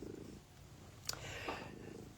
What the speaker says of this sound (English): We've also got the crazy cat.